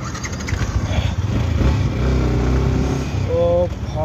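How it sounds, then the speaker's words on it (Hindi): A motorcycle engine, stuck for a while before finally firing, catches and settles into a loud, steady idling chug outdoors at night, with someone talking over it. "फाइनली बाइक गोल्ड स्टार्ट हो चुकी है"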